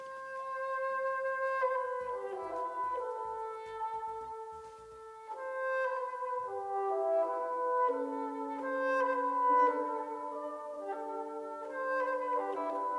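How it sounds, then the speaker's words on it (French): An excerpt of Igor Stravinsky's orchestral music composed in 1913 plays alone, with sustained melodic lines shifting between instruments, brief plucked or staccato low notes early on, and moderate, gently swelling volume throughout. "Ce que vous entendez, c'est l'extrait d'une musique composée en 1913 par un jeune homme particulièrement doué et créatif."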